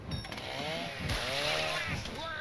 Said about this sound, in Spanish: La motosierra esa.